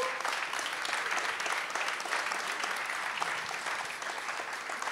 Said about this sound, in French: félicitations et on peut les applaudir